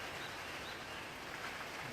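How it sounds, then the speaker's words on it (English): Steady rain falls on a farm, a soft continuous hiss with no clear individual drops, moderately faint and unbroken for the full stretch, with no voices. "rain's coming down pretty good now"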